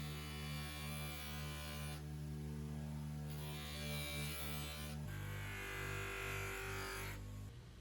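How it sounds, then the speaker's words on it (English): A polishing wheel buffs the blade of a Gunn & Moore cricket bat, giving a steady, faint electric hum and buzz that shifts pitch partway through as the pressure changes. "come over to the polish wheel and polish the blade"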